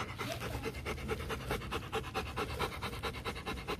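A Rottweiler pants close to the microphone in quick, rhythmic bursts of breath that carry on steadily and fairly loud, with no one speaking.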